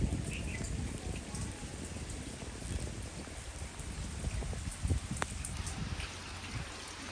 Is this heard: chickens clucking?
no